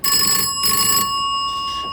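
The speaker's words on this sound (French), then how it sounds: "Oh, encore cette sonnerie." Telephone ringing insistently in an office, a loud, close electronic bell tone pulsing in bursts, alone without any voices.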